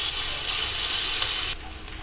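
Onion, ginger and garlic frying in cooking oil give a steady, loud, close sizzle that drops a little in level near the end.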